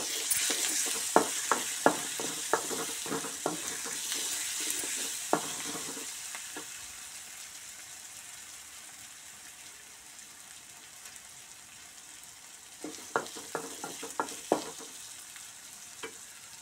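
Ginger and turmeric fry in hot oil in a pan with a steady sizzle, with clusters of sharp spoon taps and stirring scrapes at the start and again near the end, close up and without talk.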